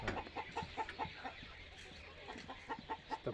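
A local rooster about seven months old clucks in a run of short, close, rhythmic calls, pausing briefly before resuming, fairly quiet against a faint background.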